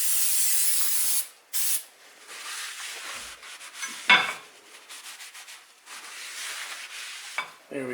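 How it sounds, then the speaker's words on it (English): Aerosol brake cleaner sprayed onto the front brakes of a Subaru Legacy GT, a series of loud hissing bursts broken by short pauses, with faint dripping and rubbing between sprays. "Next up, a little brake clean."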